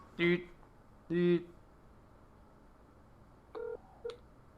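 A phone ringing heard over a call, with short, oddly clipped tone bursts that repeat at uneven intervals, thin and moderately faint, with quiet room noise between the rings.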